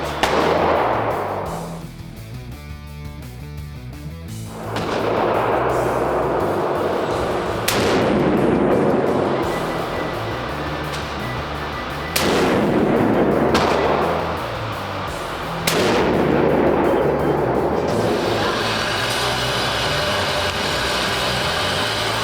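Rifle shots fired while sighting in a scope on a hunting trip, four loud, sharp reports spaced several seconds apart, each followed by a long echoing decay over a steady engine-like background.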